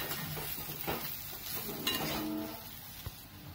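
Salt being stirred into bread upma in a pan makes soft scraping and light clinking of a spoon against metal over a faint, continuous sizzle, heard fairly quietly.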